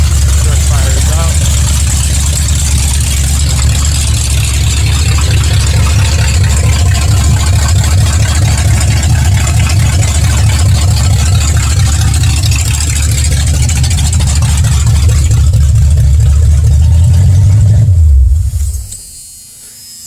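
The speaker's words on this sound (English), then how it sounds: "So now the truck is firing up and doing what it's supposed to." A 2020 Ford Bronco truck engine runs steadily after starting, a loud, close, continuous low rumble that holds for about eighteen seconds and then cuts off abruptly near the end.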